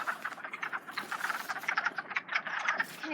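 Wood frogs croak in a vernal pool in spring, a dense chorus of rapid clucking calls that overlap continuously at moderate distance, with no voices.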